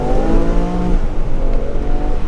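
Lexus Morizo RR accelerating hard in sports mode with stability off and a 50-50 all-wheel-drive split, the engine note rising in pitch before a shift, then pulling on with a loud, steady drone from inside the car.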